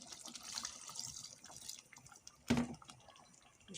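Water is poured into a pot of peas cooking with tomato, a soft splashing trickle that swells with a brief louder gush near the end.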